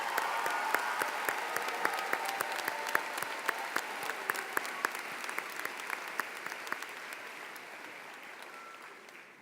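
Audience applause fills a high school commencement hall, a dense steady wash of many hands clapping that holds at an even level and slowly thins toward the end.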